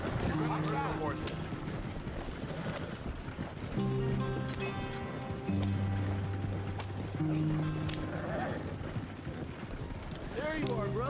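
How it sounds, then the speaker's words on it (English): Horses in the video game Red Dead Redemption 2 clip-clop along steadily under game music and sustained tones, with a brief whinny, while voices talk over the scene. "Horses."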